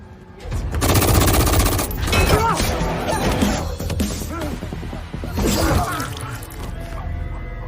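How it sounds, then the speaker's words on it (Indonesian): Gunfire in a film fight scene comes as rapid bursts and crackling shots mixed with crashes and impacts, loud and busy throughout, with brief voices mixed in. "Hingga baku tembak dan baku hantam pun berlanjut."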